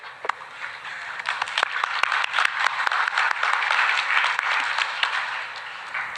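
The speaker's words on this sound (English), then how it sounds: "you have to clap before we start the next session" Audience of students at an international CA student conference in Pakistan clapping together, a dense patter of many hands with scattered sharper claps standing out, steady and fairly close for several seconds.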